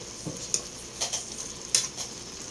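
Pakbet, a vegetable stew with fish, is stirred in a pot indoors. A utensil scrapes and clinks a few times over a soft simmering hiss, close and fairly quiet, with no speech.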